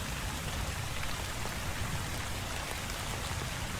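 Steady rain in the video game My Work is Not Yet Done, a dense, even hiss of falling drops that holds unchanged throughout with no voices.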